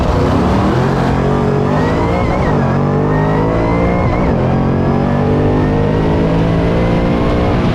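Drag racing cars in a no-prep race against a Cadillac CTS-V launch and roar at full throttle, a loud, continuous engine blare with rising and shifting pitch as they accelerate away, no voices over it.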